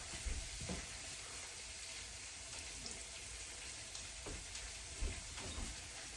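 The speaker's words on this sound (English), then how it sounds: "And you hear that sizzling? That's what you're looking for." Soft, steady sizzling of onions in butter in a pan with occasional faint stirring clicks and scrapes, quiet and close.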